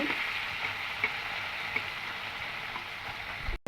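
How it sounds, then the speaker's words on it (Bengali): Fish frying in hot oil in a kadai, a steady close sizzle with faint crackles and pops throughout, cutting off abruptly near the end. "মাছ ভেজে নেব"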